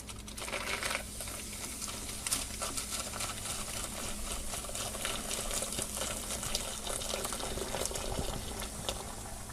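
Freshly boiled water is poured into a silver shaving mug lined with aluminum foil and baking soda, a steady close splashing and bubbling rush that continues throughout with no talking.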